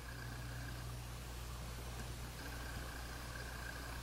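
An electric demagnetizer hums steadily with a screwdriver held in it, a constant low drone with a faint whine throughout, close and even in level.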